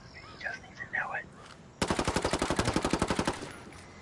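Rapid automatic gunfire in the video game Ghost War, a sustained burst of about fifteen evenly spaced loud shots following a quieter stretch of ambient game sound.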